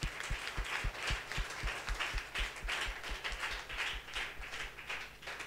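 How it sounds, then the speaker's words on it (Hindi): A church congregation claps loudly and steadily in rhythm, sharp regular claps with dense crowd hand noise throughout, with no talk over it. "जोर से तालियां बजाइए।"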